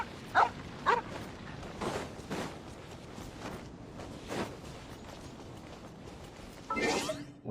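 A dog barks inside the Genshin Impact video game, two sharp barks near the start and further bursts amid game sounds and faint background noise.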